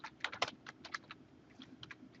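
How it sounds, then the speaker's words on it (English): Fingers type on a computer keyboard in a quick, uneven run of light keystrokes, faint and close, with no talk over it. "I'm just going to type this here."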